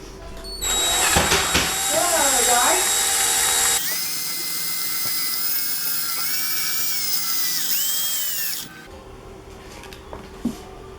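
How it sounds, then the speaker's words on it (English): A power drill spins a sanding pad across wet glossy black plastic, a loud high-pitched whine with shifting pitch that runs steadily for several seconds, then stops; a voice talks briefly before it starts. "And the drill."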